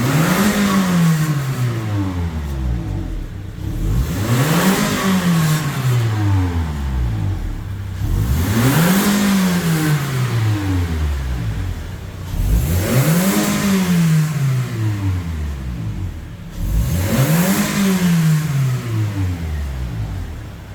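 Petrol Toyota Innova engine from 2014, freshly serviced, idling and revving in five repeated rises and falls, loud and close, with a dominant ticking injector clatter running over the engine note.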